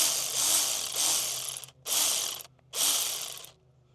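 A ratchet clicks in three short bursts while fuel hose fittings are tightened on a Bayliner boat engine, close and crisp with brief pauses between.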